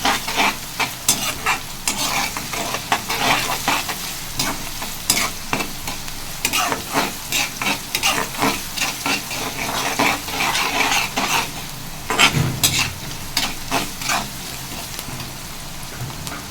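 Onions and salt stir-fried in a pan for chicken liver fry, a steady sizzle broken by repeated scraping and clinking of a spoon against the pan, close and busy throughout with no talking.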